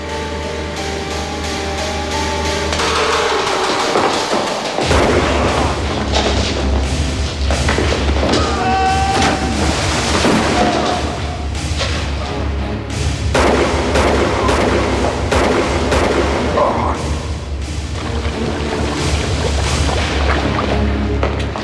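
Gunfire in a TV drama crime scene at a vat, loud repeated bangs and booming blasts over a continuous rumbling backdrop, dense and sustained throughout.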